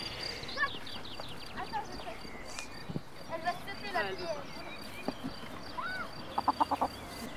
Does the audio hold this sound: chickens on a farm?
yes